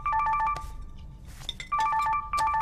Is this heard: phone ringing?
yes